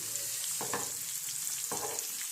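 Chilies fry in hot oil with a low, continuous sizzle, and two short stirring scrapes stand out against the crackle.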